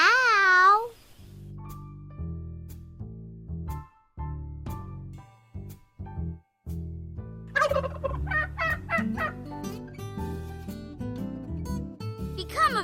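A warbling, rapid turkey gobbling call rings out up close at the start, then gives way to steady tones and further bursts of burbling calls later on.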